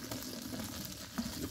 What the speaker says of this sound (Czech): Tak tady na tom si jenom osmažím